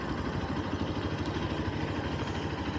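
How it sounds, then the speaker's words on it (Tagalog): Several motorcycles idle together at a busy motorcycle service center, a steady low engine rumble with light mechanical clatter running throughout. "Ang daming motor, oh."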